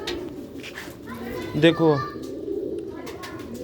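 A pigeon of an old breed gives one short burst of cooing, near and clear, with someone speaking and children's voices around it.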